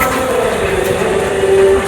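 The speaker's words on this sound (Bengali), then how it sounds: "এই ট্রেনটা থেকে নেমেছি আমরা।" A passenger train stands at a station after people have stepped off. It gives a loud, steady rumble with a rising tonal whine near the end.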